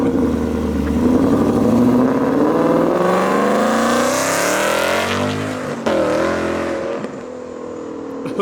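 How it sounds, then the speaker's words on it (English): Car engine fitted with a ProCharger supercharger, revved hard at a casual car show exit, a loud rising whine and roar that builds and then drops off as it pulls away. "Listen to that Pro Charger. That thing sounds so good."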